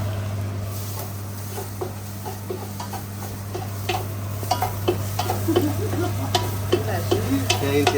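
Onion sautéing with ground ginger garlic paste in a pan, with a continuous sizzle under repeated scraping and tapping strokes of a spoon that grow busier and louder toward the end.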